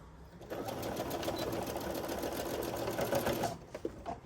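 A sewing machine stitches pieces of quilt fabric together with a quarter-inch seam, running steadily for a few seconds, its rapid needle rattle close and even, then stops with a couple of clicks.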